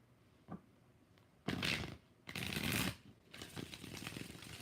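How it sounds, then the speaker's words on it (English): A deck of tarot cards is riffled and shuffled in several short bursts, a crisp papery rattle with brief pauses between, close and fairly quiet. "Five shuffles."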